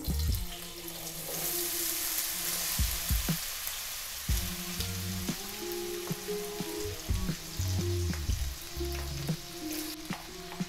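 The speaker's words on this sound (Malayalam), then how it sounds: "ഇനി നമുക്ക് ഇതിലേക്ക് നമ്മൾ നേരത്തെ കട്ട് ചെയ്ത് വെച്ചിട്ടുള്ള ഉരുളൻകിഴങ്ങ് ഇടാം." Cut raw potatoes dropped into hot oil in a pan for an Afghan omelette, giving a steady, close sizzle and frying hiss with occasional clunks and scraping from stirring, no voices.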